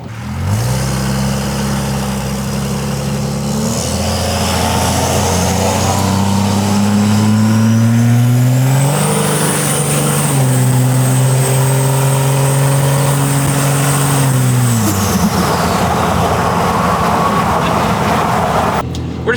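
A 5.9 Cummins diesel pickup with a 4-inch Diamond Eye exhaust pulls hard on the road, deep droning engine note climbing and holding through a long acceleration, loud and steady from inside the cab with a turbo whistle rising above it.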